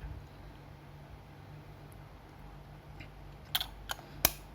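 Yashica Electro 35 GT rangefinder camera fires its shutter with the meter covered, giving a few faint, sharp mechanical clicks near the end against a quiet background hiss.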